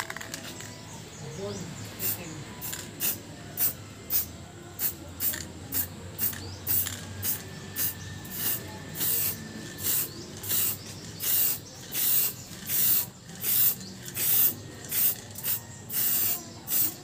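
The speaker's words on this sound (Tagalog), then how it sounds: "Nilalagyan ko ng clear spray paint for additional protection dun sa artwork." Clear spray paint is sprayed onto charcoal artwork in a long series of short, sharp hissing bursts, repeated in an irregular rhythm over a faint, busy background.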